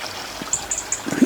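A garden waterfall water feature trickles softly outdoors in a steady, faint splashing stream, with a few bird chirps above it over about a second.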